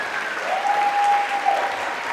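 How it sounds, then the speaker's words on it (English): Applause from an audience at a beauty pageant, steady dense clapping across a short stretch. "Ladies and gentlemen, please, one big round of applause for Jennifer, Lily, and Star"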